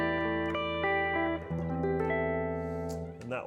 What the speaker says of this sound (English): for the most part today I'm going to be playing through a Fender Blackface Bassman profile